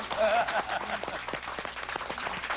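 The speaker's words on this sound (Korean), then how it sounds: "박수 좀 쳐드리고요" A short burst of clapping from a small group, steady and fairly close, with a voice talking over it.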